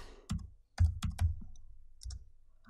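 Typing a value on a computer keyboard during synth sound design: a handful of quiet, sharp key clicks in an uneven burst, close and otherwise in silence.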